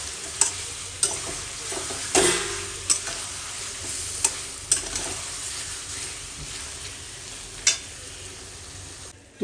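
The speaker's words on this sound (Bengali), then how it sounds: "আদা রসুনের পেস্ট আমি দিয়ে দিয়েছি। তো এখন এরকম এটাকে এইভাবে কষিয়ে নেব, 2-3 মিনিটের মতো।" Ginger garlic paste sautéing in a pan for a chicken curry gives a steady close sizzle, broken every second or so by sharp scrapes and knocks from the stirring utensil.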